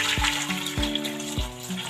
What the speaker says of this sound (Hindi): इसके साथ में इसके अंदर ना पानी डालूंगी।